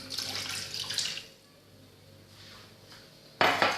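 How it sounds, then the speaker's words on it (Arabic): Water pours into a saucepan to start a lemon cream for a banana tart, with a splashy rush for about a second, a quieter stretch, then another brief burst of running water at the end. "اول شيء غادي ناخذ كاسرول غادي ندير فيها الماء"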